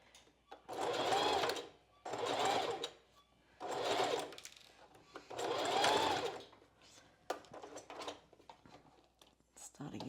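A domestic sewing machine stitches a strapless bra seam along a half-inch seam allowance in four steady bursts of whirring, then stops while the fabric is repositioned, with lighter handling noises after.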